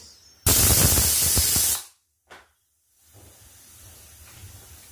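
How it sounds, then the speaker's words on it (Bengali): A pressure cooker on a gas stove, holding quinoa khichuri topped with egg, lets out one loud, near steam whistle of about a second and a half, then a brief second hiss, then quiet low rumble. "গ্যাস বাড়িয়ে দিলাম, একটা সিটি হবে।"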